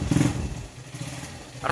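A 2003 Honda Mega Pro motorcycle runs close by, its engine rumbling and clattering with a brief rise in revs near the end, and no one talks over it.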